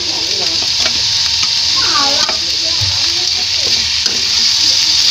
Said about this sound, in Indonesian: Lalu tumis. Masukkan tomat dan lombok.